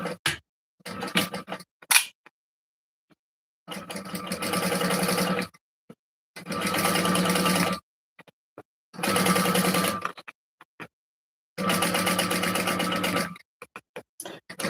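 A sewing machine top stitches a shoulder bag in four bursts of rapid, steady whirring of about two seconds each, separated by short pauses, with a few brief taps and clicks at the start.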